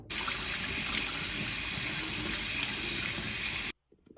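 Tap water gushes steadily into a sink while drained canned chickpeas are rinsed, a loud continuous splashing stream that cuts off abruptly near the end.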